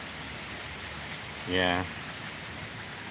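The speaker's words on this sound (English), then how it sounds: "Still raining." Steady rain falls outside an open garage on a cold day in New York State, a soft continuous hiss throughout, with one brief spoken word near the middle.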